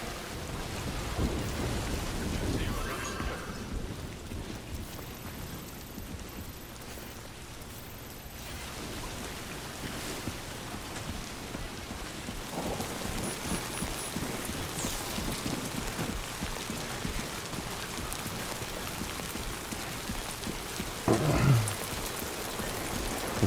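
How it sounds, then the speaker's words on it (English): Rain falling in a desert landscape in the video game Death Stranding 2: a continuous wash of rainfall with low rumbling beneath, steady throughout, with a couple of brief brighter bursts near the end. "This rain does not match the desert environment."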